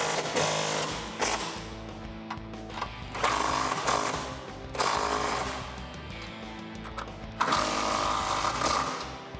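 A 15 mm socket tightens the nuts on SR Performance height- and damping-adjustable coilovers fitted to a 2015-2020 car. Loud, close mechanical bursts come in repeated runs with short gaps, and no one talks.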